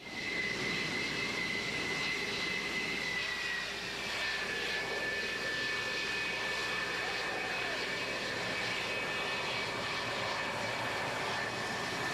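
Military aircraft engines roar overhead in a conflict zone, a steady loud drone with a high whine that holds through the whole stretch and shifts slightly in pitch partway.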